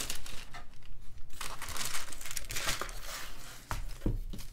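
Thin onion skin paper sheet covering a Midori MD A5 notebook crinkles and rustles in irregular bursts, close up and fairly soft, with a few sharper crackles near the end.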